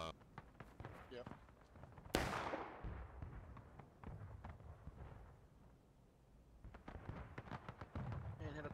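A musket volley from an infantry company in the Civil War game War of Rights cracks out as one sharp, loud burst, then rumbles and fades, with scattered shots and voices talking around it.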